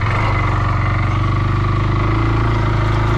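A stuck quad engine held at steady, gentle revs while the machine is pulled backward out of deep mud, a continuous loud low drone with a fast throbbing pulse throughout and no talk.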